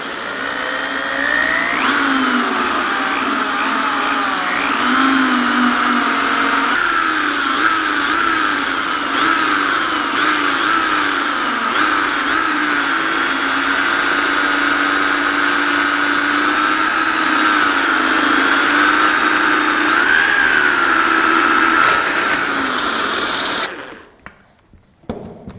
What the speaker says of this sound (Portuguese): Parafusada a peça, certo?